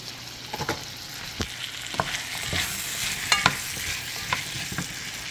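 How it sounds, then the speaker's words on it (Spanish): Squash and potatoes fry in a pan with butter and garlic salt, giving a steady sizzle broken by repeated scraping stirs of a utensil against the pan, close up with no talk. "dejamos que se fría la calabaza y la papa miren se están friendo las calabazas"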